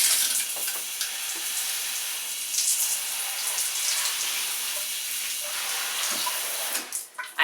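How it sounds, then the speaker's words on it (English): Water running or spraying onto hair during a deep-conditioning treatment, a steady broadband hiss lasting several seconds and close up, with faint handling noises and a short break near the end. "I typically do put a little bit of water on my hair when I apply deep conditioners"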